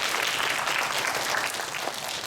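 A church congregation at a Korean Sunday worship service bursts into sustained, dense applause, many hands clapping together with no voices on top.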